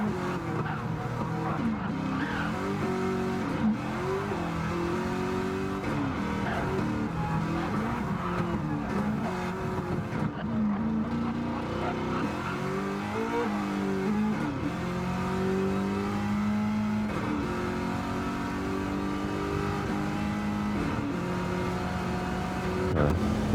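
A race car in Gran Turismo 7 at Bathurst revs steadily through its gears, engine pitch climbing and dropping in repeated sweeps with tire squeal, loud and continuous throughout.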